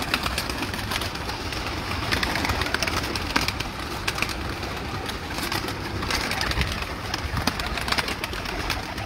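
Pigeons coo steadily in a loft, with a constant layered murmur of low calls and fluttering, close and fairly loud throughout with no speech.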